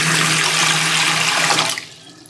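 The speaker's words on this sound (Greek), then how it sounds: "Εδώ θέλω να παρατηρήσετε τη βρύση." Water runs loudly and steadily from a faucet in a worn hotel bathroom on Chios, then cuts off abruptly near the end, leaving a quiet room.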